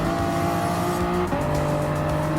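Toyota FT1 and Supra race cars in Gran Turismo Sport roar along at high revs, their sustained engine notes dipping briefly as a gear changes, with faint tire noise beneath.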